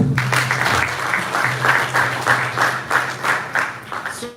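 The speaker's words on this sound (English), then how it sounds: "And I clap for Sally" Steady applause from a crowd at a town hall meeting in a hotel conference room, many hands clapping continuously with a rhythmic swell, fairly close and loud throughout.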